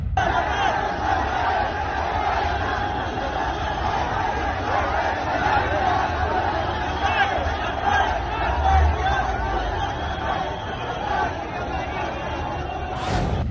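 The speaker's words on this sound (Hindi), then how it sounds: "थाने के बाहर दिन शाम से ही कैसी भीड़ थी कि मुफ्ती सलमान अजहरी की रिहाई की मांग ये भीड़ देखिए" A large crowd gathered outside a police station demanding the release of Mufti Salman Azhari, with continuous loud shouting, chanting and babble throughout, close and dense.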